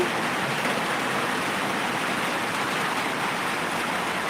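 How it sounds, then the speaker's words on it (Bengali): Steady, heavy rain falls outside in an unbroken broadband hiss, loud and constant with no pauses and no voices over it. "বৃষ্টির শব্দ যেন এত কিছু শুনতে পাচ্ছি না"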